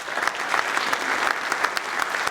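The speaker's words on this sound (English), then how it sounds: "a round of applause to start things off" A ceremony audience at the Avenue of Heroes event claps together, producing a dense, continuous patter of many hands with sharper individual claps standing out, loud and close throughout the short stretch.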